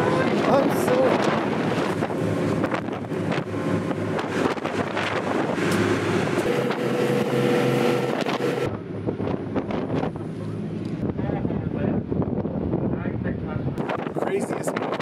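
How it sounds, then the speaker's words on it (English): A small boat rides through rough wind and waves on the way to Fingal's Cave in Scotland; loud microphone wind buffeting and splashing water continue throughout, with music and voices mixed underneath. "Craziest boat ride I've ever been on."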